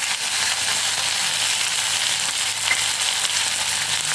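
Potatoes frying and sizzling in a pan with no oil, a dense steady hiss of crackling that holds at an even level throughout, close and alone.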